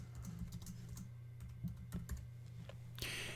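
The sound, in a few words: typing text on a computer keyboard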